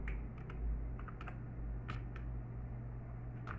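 Typing on a computer keyboard while entering a Google search, with irregular clusters of key clicks over a steady low hum, fairly quiet and close.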